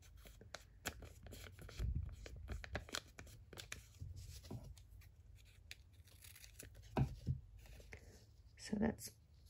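Paper is torn by hand for a junk journal page, giving a few short, close rips and crinkles scattered among light handling noises, with a person talking quietly over them.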